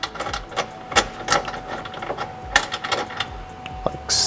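Motor mount bolts on a Toyota GR86 are turned out by hand, a close series of irregular metallic clicks and ratcheting rattles with brief pauses between bursts.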